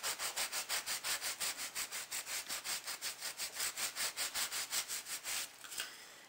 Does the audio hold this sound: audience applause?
no